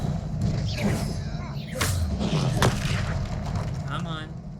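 Confringo fire-spell blasts from the Hogwarts Legacy video game go off as a few loud booming thumps over a rumbling game soundtrack, while a player's voice is raised in the background.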